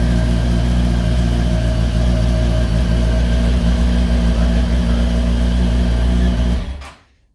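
Cold 2004 Kawasaki ZX10R Gen 1 motorcycle idling after a cold start, a steady, loud, close engine drone that holds evenly for several seconds and then cuts off abruptly near the end.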